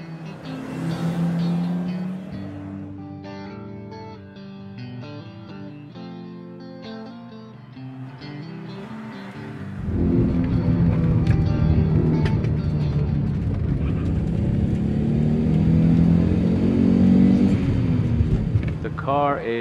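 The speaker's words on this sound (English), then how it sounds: "I drive a 1983 Audi Quattro Turbo Coupe." A 1983 Audi Quattro Turbo Coupe with a turbocharged five-cylinder engine runs loud and close, its engine note rising and falling as it revs, with a heavier, rumbling surge in the second half.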